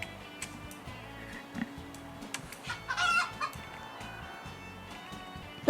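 Chickens in the Roblox game Chicken Life cluck in short repeated game-audio bursts over a ticking loop, with a louder flurry near the middle and no talking.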